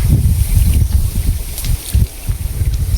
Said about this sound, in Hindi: मस्त हवा चला थे।